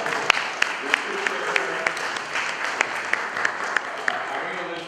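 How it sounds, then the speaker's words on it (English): Steady applause from a City Focus show audience, a dense wash of clapping with a few sharper claps standing out. "let's join in a round of applause."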